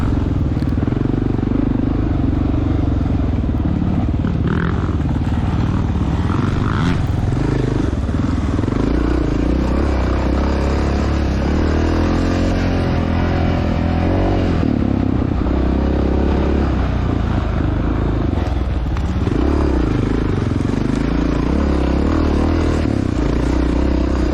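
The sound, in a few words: Honda dirt bike engines racing, 1993 Honda XR600R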